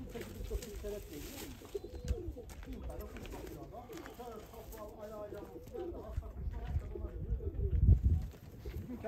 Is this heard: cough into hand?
no